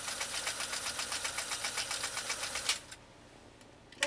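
A restored Pfaff 339 sewing machine stitches steadily in a fast, even mechanical rhythm for nearly three seconds, then stops, leaving near silence before a brief click at the end.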